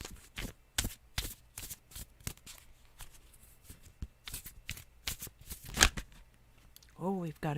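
Crisp bursts of tarot cards being shuffled close by, quick riffling pulses separated by short pauses, with a brief voice at the end.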